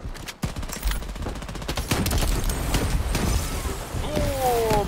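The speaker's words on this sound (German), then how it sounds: "Oh, mich hat eine Granate erwischt." Grenade blast and surrounding gunfire in the online shooter Shatterline, a dense, continuous barrage of rapid shots and booms filling the clip with a sharp impact near the start, while a player's voice talks over the battle.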